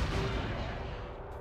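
Rapid-fire shots from the Sly Cooper video game make a dense, continuous crackling barrage with no clear gaps. The sound is fairly loud and slowly fades over a moment.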